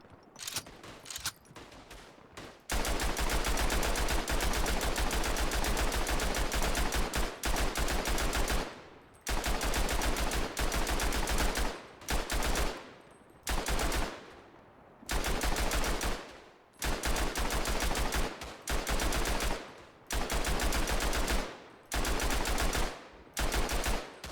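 Maxim machine guns firing in the World War I shooter game Tannenberg, a loud near-continuous stream of automatic fire broken into long bursts separated by brief pauses, with shorter rapid bursts at the start.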